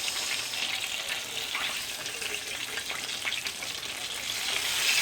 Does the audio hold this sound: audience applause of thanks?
no